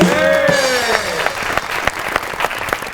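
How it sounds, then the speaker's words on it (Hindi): Studio audience of a Pakistani comedy talk show applauds a guest with a dense, steady wash of clapping that fades slightly over three seconds, while a sustained musical tone dies away at the start. "आपकी बहुत सी तालियों में"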